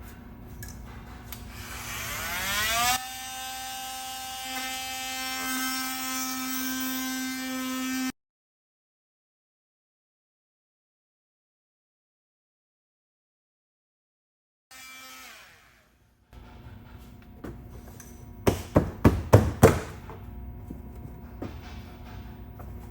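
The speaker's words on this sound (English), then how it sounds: "You want to make sure you don't go too deep with your oscillating tool or your round disc." An oscillating tool or round cutting disc buzzes loudly and steadily through a plastic engine access panel on a WFW Maverick R. It stops for several seconds, then returns with short, sharp bursts of cutting.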